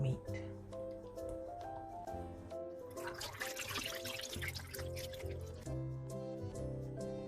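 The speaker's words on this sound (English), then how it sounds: "I've completely drained off the water now" Water drains off washed raw meat, with a short splashing pour under steady background music and a talking voice.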